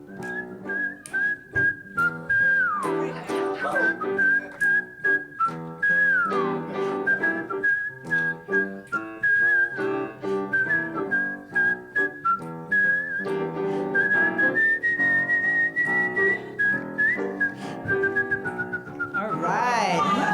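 A performer whistles a tune on stage during a live comedy and song evening, a steady, loud melodic whistle held near and clear for the whole stretch, with brief vocal sounds near the end.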